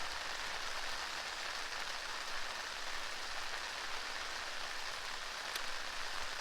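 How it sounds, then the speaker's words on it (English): Steady outdoor rain hisses evenly for several seconds, a dense, constant wash of drops taken on a shotgun microphone fitted with a furry windshield. The rain is moderately quiet and nobody speaks. "the rain is actually increasing. So I'm going to stand here for 5 seconds so you can hear it"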